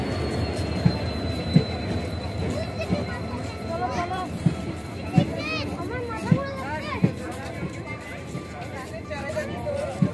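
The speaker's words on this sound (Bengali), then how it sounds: "ট্রেনটি তার নির্ধারিত সময়েই গঙ্গারামপুর স্টেশনে এসে পৌঁছে" A train pulls into Gangarampur station with a steady rumble, regular wheel clacks and a few squeals. Voices of people on the platform are heard underneath.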